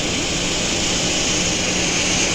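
Boeing 737-800 jet engines in the flight simulator X-Plane 10, a loud continuous roar with a steady whine and no talking.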